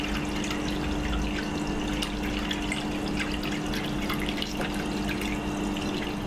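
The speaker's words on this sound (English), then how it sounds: "we're going to fill it up to the full line" Purified water pours steadily into a stainless steel distiller tank being filled to the full line, a constant close splashing rush with faint drips, with no voices over it.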